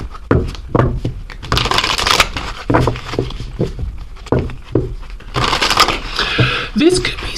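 Oracle cards being shuffled by hand, with crisp riffling and flapping bursts under a person talking nearby.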